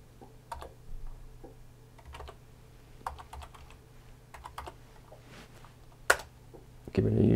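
Keys clack on a computer keyboard as a username is typed during Windows 10 setup on a Lenovo IdeaCentre: sparse, irregular, close keystrokes with one sharper click near the end, followed by a burst of handling noise.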